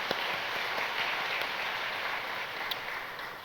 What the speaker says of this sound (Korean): 우리 박수로 환영하며 축복하겠습니다.